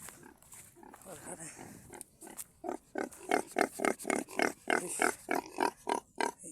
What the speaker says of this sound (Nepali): यहाँ सुँगुर पाल्नु भएको छ